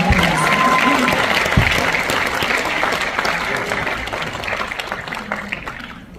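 A concert audience applauds at a Kim Dae-jung centennial peace concert in Gyeongnam MBC Hall, a dense, loud and continuous wash of clapping that holds steady and fades only slightly over about six seconds.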